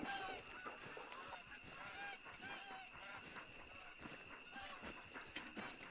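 A flock of geese in the hunting game Hunter: Call of the Wild keeps honking in faint, scattered overlapping calls at a distance, steady over a quiet outdoor background.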